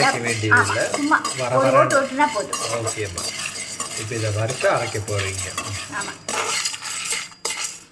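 Dried red chilies, pepper and cumin are stirred as they dry-roast in an oil-free kadai for puliyodharai spice powder. Loud metallic scraping and clinking of a ladle against the pan comes in bursts, with faint sizzling between.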